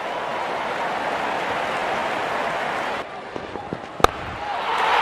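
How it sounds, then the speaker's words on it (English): A stadium crowd at an England versus South Africa cricket match roars continuously for a six during a Jason Roy century, then the broad cheer drops back after three seconds to a lower murmur with a few sharp claps and thuds, with a voice audible beneath. "Crowd on their feet to cheer the moment."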